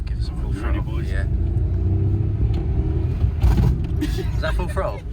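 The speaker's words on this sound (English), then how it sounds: "Give her some beans, give her some full throttle." A CA18DET-swapped Miata engine held at full throttle, a continuous low rumbling roar with a brief surge partway through, while people talk over it.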